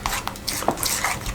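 Bread pizza roll paste being mixed in a bowl, a spoon scraping and knocking against the sides in quick irregular strokes, with light clinks of utensil on dish, close and moderately loud.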